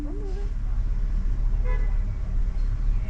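A car horn toots in city traffic on a low-visibility street, a short honk over a running engine and road noise, with people talking inside the car.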